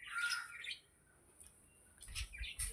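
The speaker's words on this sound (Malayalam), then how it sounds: "കുറേ ലവ് ബേർഡ്സ് ഉണ്ട് ഗൈസ്." Pet lovebirds on a house terrace chirp in quick, bright bursts at moderate distance, with pauses between flurries and faint rustling and handling noise near the end.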